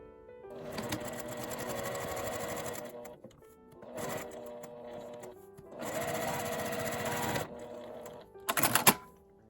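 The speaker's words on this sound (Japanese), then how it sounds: "真ん中に向かって折って端ミシンをかけます" A sewing machine topstitches the edge of a folded fabric tab for the end of a 12 cm zipper on a box pouch, running in three steady bursts with short pauses between, close and clear.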